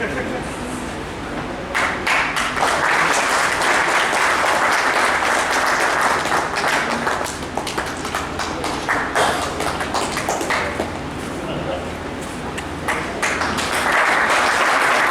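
Audience applause rolls through a hall at a 2023 wage agreement ceremony in Mandideep, sustained loud clapping that swells and ebbs in waves over a long stretch, with a voice briefly over it.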